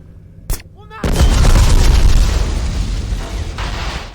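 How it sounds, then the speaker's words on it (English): Explosion in the shooter game Black, a sharp pop followed by a huge booming blast that rolls on and slowly decays, loud and close, with a small earlier burst. "I wouldn't expect that explosion to have taken out that many people"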